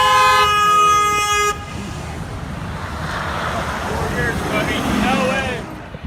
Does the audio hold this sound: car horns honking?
yes